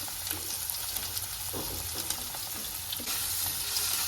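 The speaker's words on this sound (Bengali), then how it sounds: "ডিমটা ফ্রাই হচ্ছে এবারে" Egg frying in a pan with vegetables for chow mein, a steady close sizzle with stirring scrapes and a few louder bursts, no talking.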